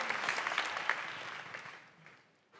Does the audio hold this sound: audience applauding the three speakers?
yes